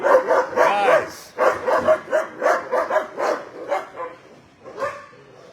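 Dogs barking in repeated bursts during an evening shelter walk-through, close and loud, with some whimpering, while a person talks over them.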